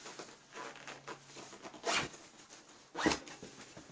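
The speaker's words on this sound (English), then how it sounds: "This one actually has a zipper," A zipper on a nylon magician's black box is pulled open in a couple of quick rasping strokes, close and crisp, with faint handling rustles in between.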